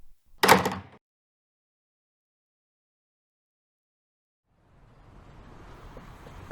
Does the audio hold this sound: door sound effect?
yes